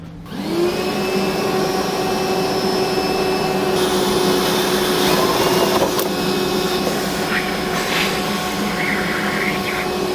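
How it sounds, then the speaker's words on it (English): A steady, loud vacuum whine runs throughout as it sucks drilling particles out of a vehicle lens for a tow bar install, with faint higher-pitched tool noise and a brief clatter partway through. "Now I'm going to get a vacuum and I'm going to try and pull out as many of the particles"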